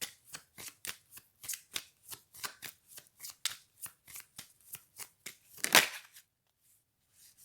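Fortune-telling cards are shuffled in a fast, even series of crisp riffling bursts, ending with one louder snap as a card is drawn, then quiet.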